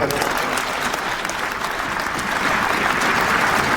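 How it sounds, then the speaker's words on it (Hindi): A crowd at a political event applauds in a continuous, dense wash of clapping that holds steady and swells slightly toward the end, with no voices standing out. "ताली बजाई, लोगों से कहा ताली बजाइए।"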